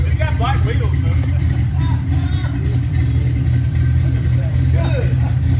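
A car engine with a new hood-mounted carburetor revs and idles steadily, loud and close, with people talking outside over it.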